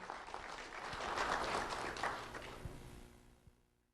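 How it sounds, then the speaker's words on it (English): An audience at a sheriff's office student award ceremony applauds a fourth-grade girl from Sunshine Elementary School. The clapping is moderately distant, swells to a peak mid-way, then fades away to near silence. "Round of applause for Anna Ramos Juan."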